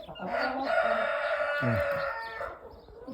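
A Jersey Giant rooster crows loudly and close by, one long drawn-out call with a rising start, followed by a second cock-a-doodle-doo starting midway.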